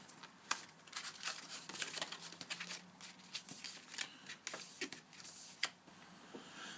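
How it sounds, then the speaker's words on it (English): A card gift box template is folded and creased by hand, producing faint close-up papery crinkles and sharp little snaps in an irregular rhythm. "Fold the card in position first, just get all those creases folded."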